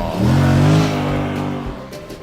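Jeep Grand Cherokee SRT8 with a V8 engine accelerating hard, a loud, close engine roar that rises quickly, holds briefly and then eases off, with no other sounds over it.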